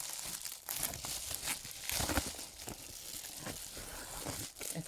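A plant package is torn open by hand, with continuous close crinkling and crumpling of wrapping and short tearing bursts, fairly quiet and steady.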